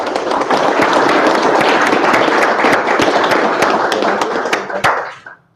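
Audience applause fills a room after a Python meetup talk on elliptic curve cryptography, a dense, steady crowd of claps that holds loud for about five seconds, then thins out and fades.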